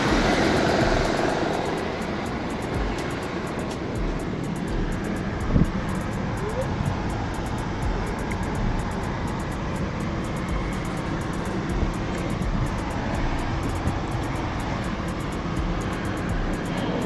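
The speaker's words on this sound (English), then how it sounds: "this engine is vibrating much because the compressor is really pulling a heck of power out of it" A car engine idles steadily with its air-conditioning compressor engaged and loading it heavily, a constant close rumble and hum with a faint whine, while a voice speaks over it now and then.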